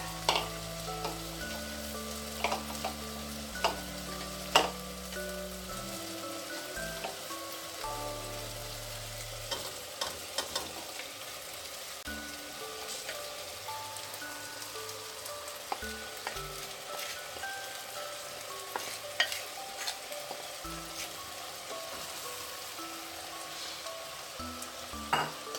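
Arroz valenciana is stirred in a frying pan, with a steady soft sizzle under repeated scraping and clinking strokes of a spoon against the pan over a long stretch, with no talking.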